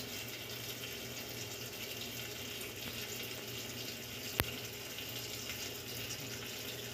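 Tap water runs steadily into a sink while dishes are washed, a constant hissing gush with one sharp click partway through and no talking.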